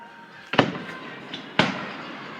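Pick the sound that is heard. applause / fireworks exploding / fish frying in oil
fireworks exploding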